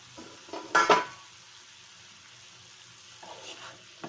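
A cucumber vegetable dish cooks on a low flame in a pan, with a soft, quiet sizzle and a brief burst of utensil scraping and clinking near the start, then a few lighter stirs later.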